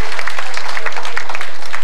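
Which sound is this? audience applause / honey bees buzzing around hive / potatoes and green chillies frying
audience applause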